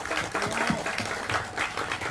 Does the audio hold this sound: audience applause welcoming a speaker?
yes